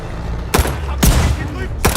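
Gunfire in the COD Vanguard video game, three loud, close bursts of shots about half a second apart over a low rumbling battle background.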